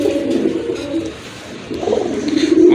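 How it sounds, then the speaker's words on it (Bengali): Domestic deshi pigeons in a loft coo in low rolling phrases, close and fairly loud, with a brief pause midway before the cooing resumes. "আরেক জোড়া কবুতর, দেশি কবুতর"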